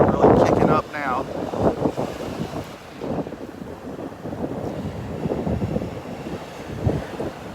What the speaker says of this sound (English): There's that wind again.